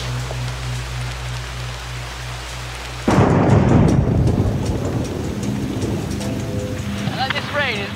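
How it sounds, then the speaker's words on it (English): Heavy tropical rain on an island starts abruptly as a loud, dense downpour with a deep rumble, replacing a quieter steady hum, and a voice briefly surfaces near the end. "And this rain is absolutely unbelievable"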